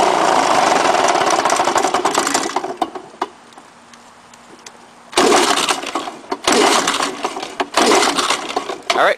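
Small lawn-equipment engine, fuel drained for winter storage, being primed and pull-started: loud broadband bursts of cranking and sputtering running, a quieter pause mid-clip, then rough running resumes in choppy loud stretches.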